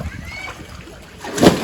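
Water splashing in a swimming pool, a quiet slosh that builds to a louder splash near the end, with voices talking over it.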